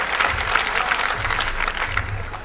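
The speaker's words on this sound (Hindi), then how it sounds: "मैं चाहता हूं एक बार बधाई की तालियां आप उसे जोरदार बजाएं, उसके लिए आभार प्रकट करें।" Sustained audience applause at a poetry recital, a dense, loud field of clapping that holds steady throughout, with a faint low rumble from the hall underneath.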